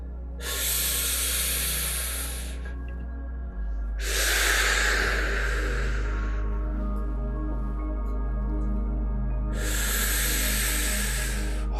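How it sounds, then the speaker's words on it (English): Three long, deep breaths are taken slowly and close up during a seated relaxation exercise, each a breathy rush of air separated by quiet pauses. "And then one more long, deep breath."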